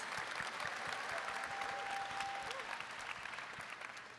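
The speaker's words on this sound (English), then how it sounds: "A round of applause" A crowd applauds at the Star Wars Zero Company game reveal, a steady, fairly faint wash of clapping heard from a distance that holds evenly throughout.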